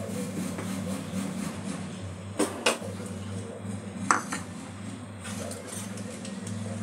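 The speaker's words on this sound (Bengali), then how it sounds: "এইভাবে ডিমটা দিয়ে আমি স্যুপটা নেড়ে দেবো" Chicken egg soup stirred in a pot, giving a few sharp metallic clinks of a spoon against the pot rim over a steady low kitchen hum, with no talk.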